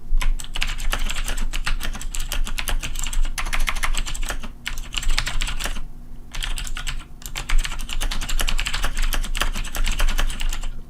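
Steady, continuous typing on a computer keyboard in an office IT support setting, with dense rapid key clicks running almost throughout and two brief pauses, close and fairly loud, no voices.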